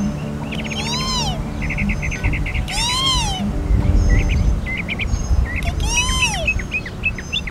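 A kiskadee calls repeatedly, three bright ringing phrases spaced a few seconds apart, over a low background hum and faint chirps.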